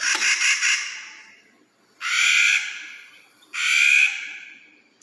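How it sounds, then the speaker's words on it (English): Clark's nutcracker calls: three harsh, grating, crow-like squawks separated by short pauses. Each call is loud and near, and each fades out slowly. No voices are heard. "Clark's nutcracker?"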